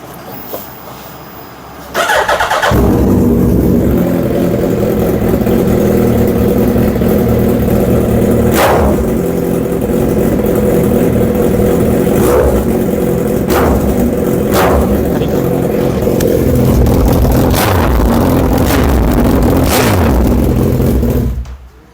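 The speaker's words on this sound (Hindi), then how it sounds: "मोटरसाइकिल का 4-1 हेडर है, बहुत ज़्यादा लाउड मोटरसाइकिल का साउंड है" A Suzuki Hayabusa motorcycle fitted with loud 4-1 headers kicks in after a short quiet lead-in, then holds a loud, close, steady engine roar with repeated rev blips, running alone until it cuts off at the end.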